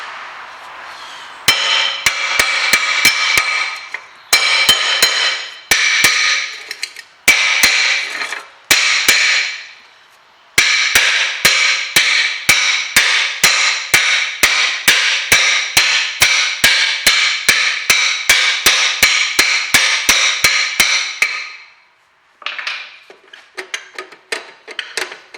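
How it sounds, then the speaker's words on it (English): Hammer blows against a rear brake disc on a Toyota Corolla to loosen it, sharp metallic strikes in rapid repeated bursts with short pauses, close and loud. "I'm just going to keep hitting this, basically turn it around, hitting it, and just trying to get it off"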